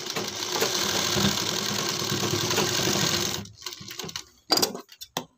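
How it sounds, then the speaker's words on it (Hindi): Sewing machine stitching a kurti collar along the neck edge, a fast continuous mechanical rattle for about three seconds, then stopping and restarting in short bursts. "यहाँ पर हमें नेक की बिल्कुल किनार पर सिलाई लगाना है"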